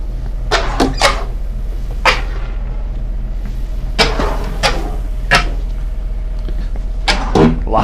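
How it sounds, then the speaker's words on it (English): Several short wooden slides and knocks of kitchen drawers being pulled open and shut in a 2019 Newmar Ventana 4311 motorhome, spaced irregularly over a steady low hum. "lots of drawers, lots of kitchen storage in this coach. I'll just go through and open them up and let Tony pan down through."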